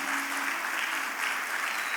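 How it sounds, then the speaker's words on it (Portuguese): A church congregation applauds volunteer professionals, a dense steady wash of clapping filling the whole stretch without a break. "Não, você deveria aplaudir"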